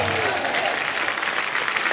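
Studio audience at a Hindi comedy talk show gives loud, dense applause for guest Ajay Devgn, a continuous wash of many hands clapping with faint voices mixed in.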